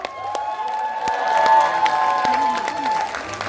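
Audience applause and cheering ring out at the close of a kindergarten recital festival, Haewa Dal daycare and kindergarten, steady clapping with children's shouts and some voices layered over a sustained tonal music bed.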